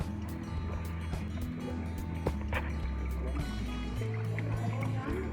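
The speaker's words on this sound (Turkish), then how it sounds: "O su sesi benim ayaklarımdan geliyor." Water splashing and sloshing in steady bursts as feet move through shallow water in a canyon, with outdoor rumble and a sustained tone underneath.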